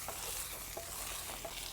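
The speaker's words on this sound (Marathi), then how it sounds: "चांगली परतू घ्यायची आता।" Drumstick (shevga) greens sautéing in a pan, a soft continuous sizzle with faint stirring scrapes every so often, close and quiet, with no talking.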